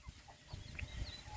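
Soft clucking from a few chicks, low and intermittent over a faint background, close by and without talk.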